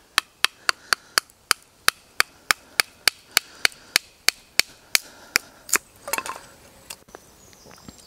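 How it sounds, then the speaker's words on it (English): Billhook blade tapped down through a piece of wood with a mallet to split it at a forest school: a steady run of about twenty crisp, evenly spaced knocks, close and loud, ending with a brief splintering crackle. "They can get a mallet or another piece of wood and just tap it through"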